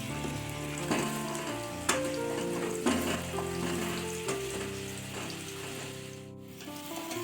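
Potatoes frying in oil in a kadai for aloo dum give off a steady sizzle with light crackling. It runs continuously beneath background music with sustained tones.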